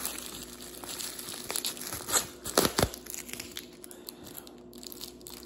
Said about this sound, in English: Little bubble wrap. Because we all love the bubble wrap.